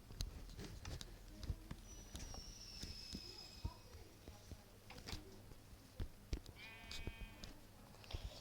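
Blocky sheep in Minecraft bleat a few times amid other game sounds, with birdlike cooing, short clicks and a voice speaking nearby.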